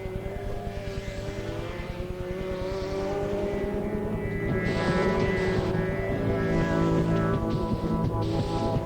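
Formula Ford 2000 race cars run a practice session at Phoenix Park in 1986. Several engines drone with buzzing harmonic tones that swell and shift in pitch as cars pass nearby, with no talk.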